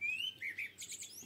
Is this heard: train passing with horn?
no